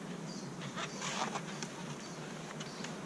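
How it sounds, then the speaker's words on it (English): Honey bees from a newly installed hive colony buzz softly and continuously during an open hive inspection, a faint close drone with occasional louder passes of individual bees. "these are very gentle bees"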